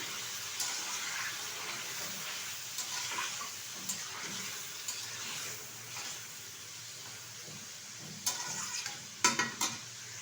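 Salt-marinated chicken for a handi chicken biryani fries in a pot with a steady, low sizzle. Occasional stirring scrapes stand out, and a few sharper clatters come near the end.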